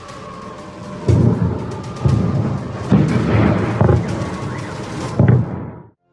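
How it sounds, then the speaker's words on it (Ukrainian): Heavy rumbling explosion booms roll in about once a second over a steady noisy hiss at night, loud and continuous, ending abruptly. "Повсюдно чути сирени повітряної оборони, автомобільні сигналки та звуки вибухів."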